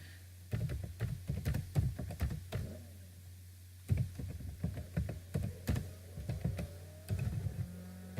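Someone types HTML code on a computer keyboard, the clicks coming in three quick bursts of keystrokes separated by short pauses, close and clear over a low steady hum, with no talking.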